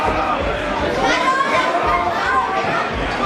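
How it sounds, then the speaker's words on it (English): Wrestling crowd at a chain rope match urging on Kris Chambers, a loud continuous wash of cheering and shouting voices with no pauses throughout. "The crowd trying to will on Kris Chambers"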